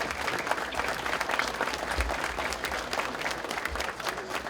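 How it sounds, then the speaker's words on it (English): An audience at a Hornell sports night banquet claps steadily for the Sports Night Committee, a dense, sustained round of applause with no voices over it. "please join me and put your hands together to give one more round of applause to the Sports Committee, the Sports Night Committee"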